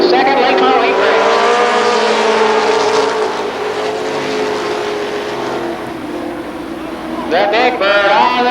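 Late model race cars scream around a speedway track during a heat race, their engines loud and close with rising and falling harmonic whines as cars pass. A commentator's voice runs under the roar, which surges again near the end.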